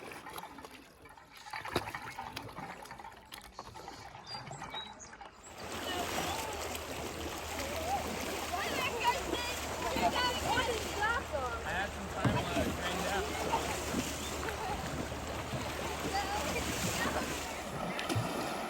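Loud rushing water from big rapids on the Salt River, Arizona, churns steadily after a quieter opening, with wind buffeting and faint voices underneath.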